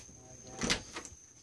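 An RV door opens or closes with a short, soft thud and a brief rattle, fairly faint against a steady high-pitched hum.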